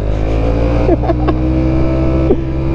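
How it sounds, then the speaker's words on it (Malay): A 125 cc motorcycle idles with a steady low engine drone up close, and a few brief revs rise and fall above it. "Inilah motor baru aku."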